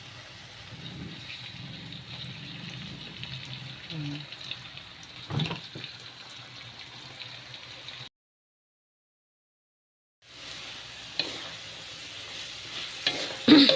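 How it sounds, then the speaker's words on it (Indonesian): Spicy oseng mercon stir-frying in oil, with a soft steady sizzle and occasional scraping of the spatula, a brief silent gap midway, then the frying resumes. "Ini kita tumis, udah kita tambahin minyak sampai dia matang dan berbau harum"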